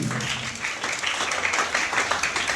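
Audience applause at a literary stage competition welcoming a team, a continuous wash of clapping of moderate loudness.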